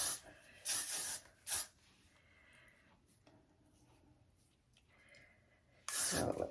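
Several short hissing bursts of hairspray, two quick ones close together, then a longer spray at the end, with quiet handling between.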